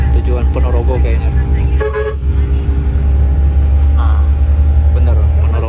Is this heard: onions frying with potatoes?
no